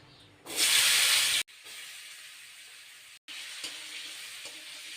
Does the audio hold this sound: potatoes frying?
yes